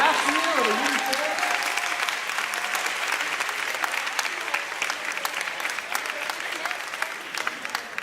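A large audience at a Lawrence High alumni scholarship event gives a steady, full round of applause lasting the whole stretch, with some cheering and voices mixed into the clapping.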